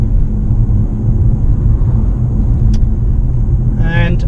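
Mitsubishi Outlander PHEV cruising at a steady 60 km/h, a loud constant low road and engine rumble, with a voice speaking briefly near the end.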